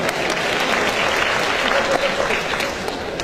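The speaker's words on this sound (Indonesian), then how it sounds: "Dan tepuk tangan buat wanita-wanita Indonesia." A comedy show audience applauds loudly and continuously, a thick wash of clapping from a large crowd with murmurs mixed in.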